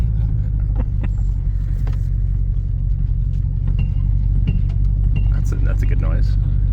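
A $250 Ford Crown Victoria idles and drives with a loud, steady low engine rumble and cabin shaking, rattles and small knocks scattered on top, heard from inside the car.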